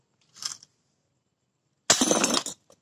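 A brief clink, then after a pause a loud, bright shatter of a glass bottle hit by an airsoft BB, ending abruptly with a small tinkle.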